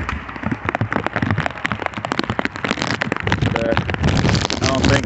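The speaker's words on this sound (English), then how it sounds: "And it's raining pretty good out here." Heavy rain pours outdoors onto a person wearing an old Gore-Tex jacket and pants, a dense, crackling patter of drops hitting the fabric up close, with someone talking over it.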